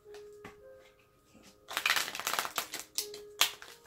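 Tarot cards being shuffled by hand: a quiet soft patter at first, then a louder burst of rapid riffling flicks through the middle, trailing into a few separate slaps and flutters, close up with a faint steady hum underneath.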